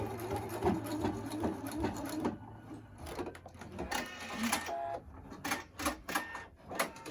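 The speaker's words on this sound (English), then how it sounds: "I'm just going to go ahead and stitch that just like I did the other side." A sewing machine stitches a cotton face mask, running in steady mechanical bursts with brief pauses and changes of pace, close and moderately loud with no talking.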